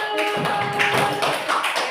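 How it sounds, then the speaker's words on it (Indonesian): Classroom pupils applaud a group of classmates with brisk, dense clapping that lasts about two seconds at close range. "Tepuk tangan buat kelompok anggur"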